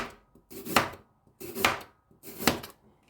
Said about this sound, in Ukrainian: Морку нарізаю кільцями.